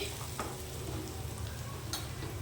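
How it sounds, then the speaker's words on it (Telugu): Masala sizzles steadily in a pan for fish curry, a low continuous frying hiss with a few faint clinks of a stirring spoon, heard alone without talk. "మన మసాలా అంతా మంచిగా వేగిపోయింది, ఇలా బాగా వేగాలన్నమాట"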